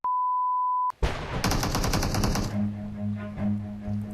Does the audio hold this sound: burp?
no